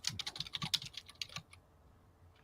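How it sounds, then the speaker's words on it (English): Brisk typing on an Apple desktop keyboard, fast light key clicks in a close, quiet room, thinning out near the end before one last tap. "it's a quote brand new in the box Apple desktop keyboard"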